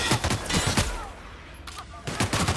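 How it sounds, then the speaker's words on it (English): Rapid bursts of automatic gunfire in the sci-fi video game The Outer Worlds, clustered volleys of sharp shots in quick succession, loud and close, with a short lull between bursts. "Returning fire!"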